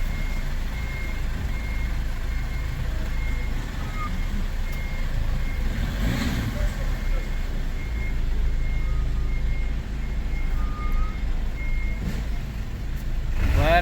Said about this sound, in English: We are in a taxi right now, and we are stuck in some heavy traffic.